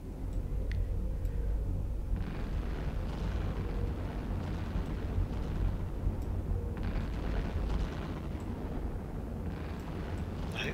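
Missile impacts from EVE Online space combat form a continuous low rumbling roar, with several swelling bursts of heavier blasts rising over the steady din throughout.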